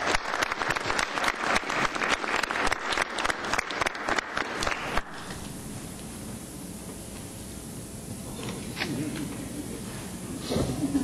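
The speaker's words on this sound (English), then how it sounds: "Let's give Andrew a big round of applause." An audience at a council meeting applauds a kindergarten award winner with about five seconds of loud, rhythmic clapping that stops abruptly, followed by quieter room noise and faint voices.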